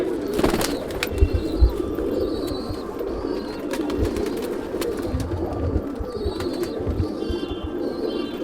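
Madrasi pigeons coo steadily at close range, soft repeated throaty calls layered over a busy loft with occasional wing flutters and light chirps.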